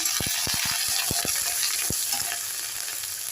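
Grated ginger sizzling in hot oil with tempering spices, a dense continuous hiss close up, punctuated by a few sharp pops and stirring clicks early on.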